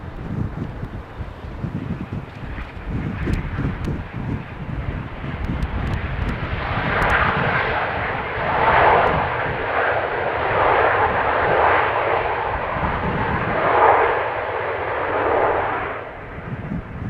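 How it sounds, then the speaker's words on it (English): A Cessna Citation business jet lands on runway 27 at Amsterdam airport in windy conditions. The engine roar swells to a loud pass and then lingers, with gusting wind buffeting the microphone throughout. "this Cessna citation landing on 27,"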